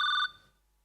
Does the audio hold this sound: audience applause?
no